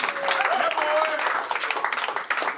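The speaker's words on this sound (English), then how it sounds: "let's give one more round of applause to our Madden Challenge Champion, Noah." A crowd gives loud, sustained applause for the Madden NFL 20 Challenge champion, dense clapping that stays close and full before thinning into scattered claps.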